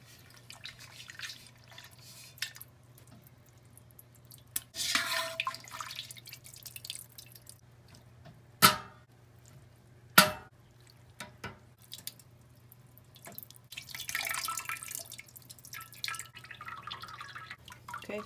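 Whey draining from sheep's milk cheese curds in a basket, heard as quiet, sparse drips and trickles with a couple of sharper splashes in a hushed room.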